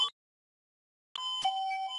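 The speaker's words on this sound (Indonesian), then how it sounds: "maaf mengenai bel tersebut itu" A bell rings in the background of an indoor talk, a short tonal ding at the start, then after a silent gap a longer sustained chime with a second strike, moderately loud.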